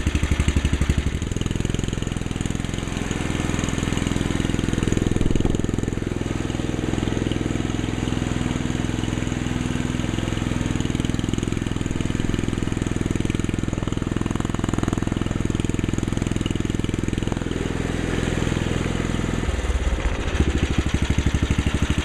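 A car engine idles through a chrome exhaust with a loud, steady, low rumble that holds evenly for about twenty seconds, with no talking.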